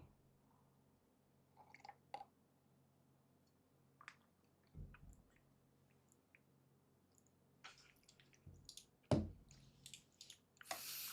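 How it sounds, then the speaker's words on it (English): Someone takes a few quiet sips of water near the microphone, with soft swallows and small wet mouth sounds spread over several seconds, ending in a louder clunk as the container is set down. "let me grab some water here really quick"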